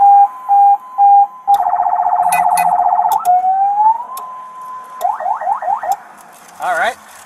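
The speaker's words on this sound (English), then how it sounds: "it has a functioning siren to go with the lights," A fake police car's siren cycles through modes: short beeps, a rapid warbling yelp, a rising wail, then quick chirps, loud and close, with brief talking mixed in.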